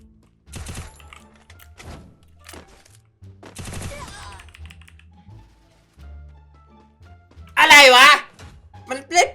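A UMP submachine gun fires in a video game, with two short, loud rapid-fire bursts and scattered lighter clicks between them, followed by a brief raised voice near the end.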